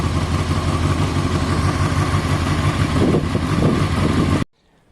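Honda CBR600 F4i motorcycle low on fuel, struggling to start, producing a loud close engine churn and rumble with uneven clatter that cuts off abruptly before the end.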